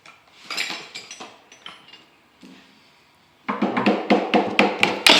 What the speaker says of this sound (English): Let me take a chisel to it.